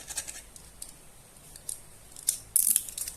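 A utility knife blade scrapes across a tempered glass phone screen protector in a few quick, light, gritty strokes, close and fairly faint, the final scratches louder and harsher.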